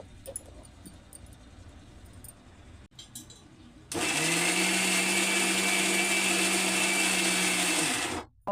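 A kitchen mixer grinder blends ginger and garlic paste with a little water. After a few quiet seconds the motor starts abruptly with a loud, steady high whine and grinding roar that holds for about four seconds, then stops.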